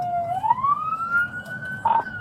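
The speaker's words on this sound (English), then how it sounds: "License siren is activated." A police car siren wails with a single rising tone that climbs and holds, loud and close, over the low rumble of a moving vehicle during a felony standoff.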